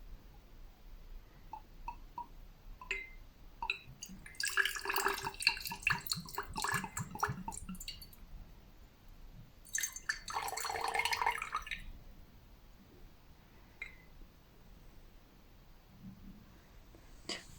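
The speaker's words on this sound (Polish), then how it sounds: "A teraz dajemy wodę." Water poured from a vessel into a container holding a little oil, in two bursts of splashing pour noise separated by a pause, close and fairly loud, with a few faint drips and clinks afterward.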